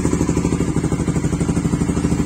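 A Suzuki Raider (Supra GTR 150) motorcycle fitted with a racing ECU runs close by, its engine producing a loud, throbbing low rumble with a quick, even pulse and no speech over it.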